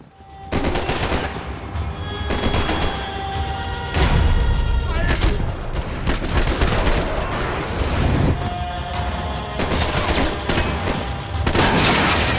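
Sustained gunfire fills a Max Payne 3 shootout, dense automatic bursts and heavy booms rolling almost continuously at high level, with a brief voice under the barrage.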